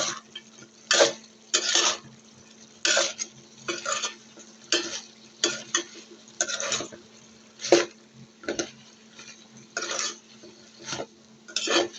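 Taro stolons stirred in a cooking pot with boiled potatoes, shrimp and jackfruit seeds, a spoon scraping and clattering against the metal in irregular bursts over a faint steady hum, no voices.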